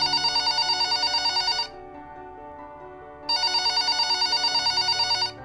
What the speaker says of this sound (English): Suddenly, the phone rang, shattering the silence.